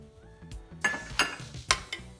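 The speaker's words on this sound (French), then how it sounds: "On utilisera la cuillère pour mélanger." A metal spoon stirs pasta with tomato paste in a cooking pot, giving a few scraping clinks and knocks against the pot in irregular bursts, close and moderately loud.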